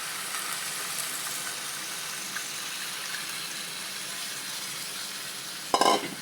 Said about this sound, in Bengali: এবার আমি নারিকেলের দুধটা দিয়ে দিচ্ছি